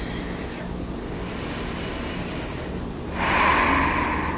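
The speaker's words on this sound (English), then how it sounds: "Taking long inhales and slow exhales." Slow deep breathing during yoga, with a long airy exhale at the start and another inhale near the end, close and soft against a quiet background.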